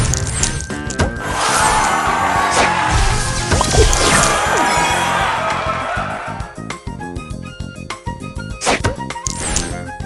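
An airstrike booster in a match-3 video game smashes tiles with a dense run of loud crashes and whacks, followed by sparser chiming and clinking hits.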